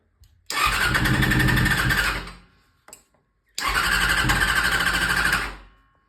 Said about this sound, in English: Now it's time for the test. I'm gonna hit the key. Hey, it turns on.